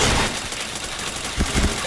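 Shots fire in the online shooter Point Blank, a loud sustained rattle of gunfire with sharper, heavier bursts near the end, dense and close throughout.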